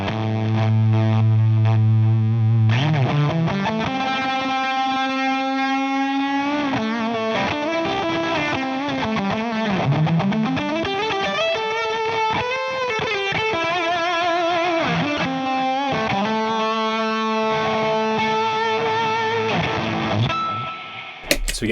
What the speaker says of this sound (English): If you play a single note with the fuzz pedal, you kind of hear the note and then you'll hear these other kind of artifacts come with it.